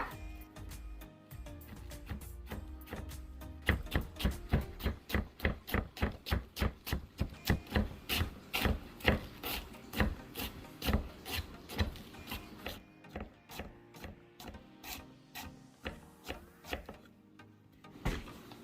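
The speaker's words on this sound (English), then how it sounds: "Then I'm going to cut up the cabbage." A knife cuts up cabbage on a board in a long run of steady, rhythmic chopping strokes, close and crisp, speeding up slightly before tapering off.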